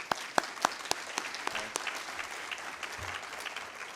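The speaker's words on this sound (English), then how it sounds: "So round of applause for everyone." A round of applause from the audience at a student leadership summit, with quieter, scattered claps and a few sharp, close individual hand claps standing out early on, continuing steadily throughout.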